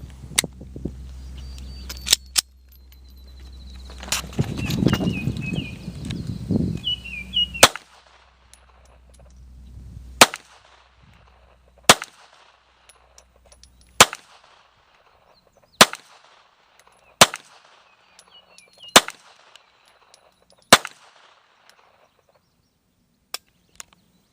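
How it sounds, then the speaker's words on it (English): Around ten sharp gunshots from a small, striker-fired miniature pistol at an outdoor range ring out one at a time at irregular intervals, loud and close, with a stretch of low rumbling handling noise between the early shots. "It's a striker fired gun actually, so your trigger pull is going to be consistent on each pull."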